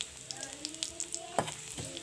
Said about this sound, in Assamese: এতিয়া একেখিনি তেলতে এয়া মই দিছোঁ গোটা জিৰা আৰু তিনিটা দিছোঁ শুকান জলকীয়া আৰু কেইটামান দিছোঁ ইলাচি।